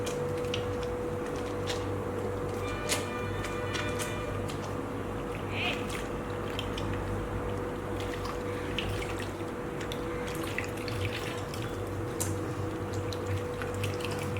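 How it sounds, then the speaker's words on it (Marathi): Tap water pours continuously while hands are rinsed, a steady close stream with small splashes and a low hum underneath, no one speaking. "धुवून काढू हात।"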